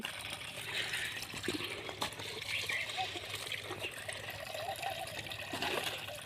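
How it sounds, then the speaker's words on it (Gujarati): Water gushing from a badly burst pipe dug up in the ground, a steady rushing trickle with splashy bursts, heard close amid outdoor background noise. "મિત્રો પાઇપ તો જોરદાર ફૂટેલી છે કેટલું બધું પાણી આવે"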